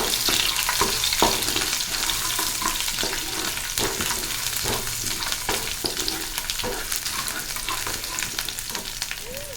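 Crushed garlic cloves sizzle in hot oil in a pan, apparently with chana dal and onion, as a continuous loud frying hiss broken by frequent clicks and scrapes of stirring.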